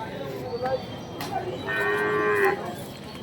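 Glossy cattle at a cattle market give a drawn-out, fairly loud moo in the middle of the clip, over a murky background of market noise with a few fainter calls.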